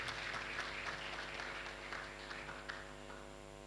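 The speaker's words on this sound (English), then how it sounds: "Please, a round of applause for him." Audience applause at a launch event, a crowd clapping steadily over a low hum and slowly tapering off at the end.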